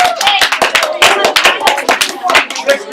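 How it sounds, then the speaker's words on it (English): Students in a classroom give a quick, light golf clap, a scattered run of close, sharp hand claps lasting a few seconds, with voices mixed in. "So give yourselves a little golf clap."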